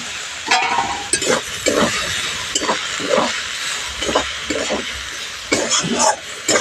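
A spoon scrapes and stirs mustard-poppy paste with green chilli into boiled potato, eggplant and drumstick flowers sizzling in a pan, in about ten rhythmic, close strokes over a constant frying hiss.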